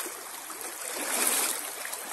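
River water rushes over the rapids in a steady, close hiss and gurgle on a clear day in Riacho Fundo, with no voices.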